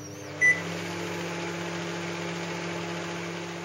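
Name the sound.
microwave oven running, cooking bread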